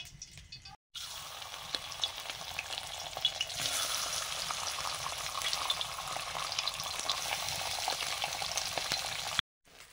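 Fish sizzles steadily in hot oil in a home kitchen pan, a dense, continuous crackle that stays loud and close throughout, with two brief silent gaps near the start and end.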